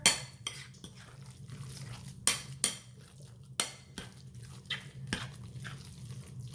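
A spoon scrapes and clinks against a bowl while spinach lasagna filling is stirred, giving soft irregular knocks and a few sharper taps over a quiet background hum, with no talking.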